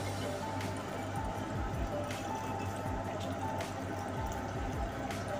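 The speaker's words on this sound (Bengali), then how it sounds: "জল ঢালছে দেখো কিসে করে" Water is poured slowly in a continuous, close trickle with soft dripping and splashing, steady from start to finish.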